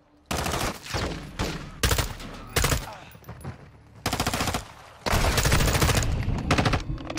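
Automatic gunfire in Modern Warfare 2, several loud rapid bursts of shots cutting in and out, the longest sustained burst near the end.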